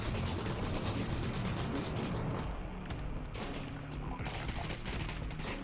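Gunfire and shotgun blasts in the VR game Half-Life: Alyx, a dense continuous barrage of shots and combat noise filling the whole stretch with no talk over it.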